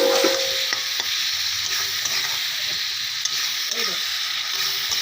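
Pabda fish curry fries in oil with salt, a steady close sizzle under repeated scraping and stirring in the pan, with no talk.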